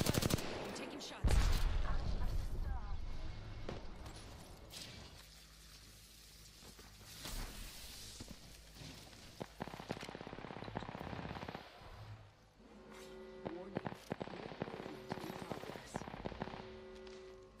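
Apex Legends gunfire crackles in scattered bursts and single shots, some loud and close and others more distant, with game effects and a faint voice underneath.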